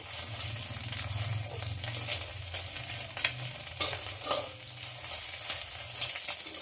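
An egg sizzles and crackles in hot oil in a wok-style pan, with repeated scraping strokes against the pan throughout. Near and fairly loud, with no talking.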